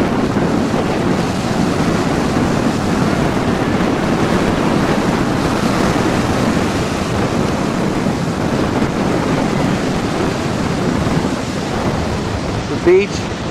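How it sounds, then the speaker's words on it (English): Large ocean waves roll in at a beach near Shark's Cove, Hawaii, a loud continuous surf roar with heavy wind buffeting the microphone throughout. "Pretty good sized waves rolling in."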